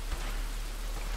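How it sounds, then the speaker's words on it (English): Steady nighttime rain in the video game Desperados 3, a soft, even hiss of falling drops with faint low rumbles, quiet and continuous throughout. "And it's raining."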